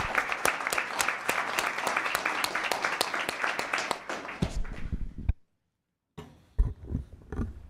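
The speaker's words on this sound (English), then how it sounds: "One last round of applause for these girls." Audience applause for a group of girls being honored at a town council meeting, dense steady clapping that fades out, then a short silence before sparse noises resume.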